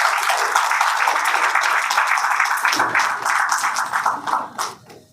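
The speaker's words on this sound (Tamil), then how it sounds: "அவரை வருக என்று வரவேற்போம் உங்களுடைய பலத்த கரகோஷங்களுடன்." An audience at a company function applauds to welcome a guest, with dense, steady clapping that holds for several seconds before thinning out and fading near the end.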